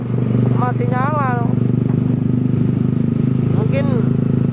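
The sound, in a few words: Yamaha Mio motorcycle engines left running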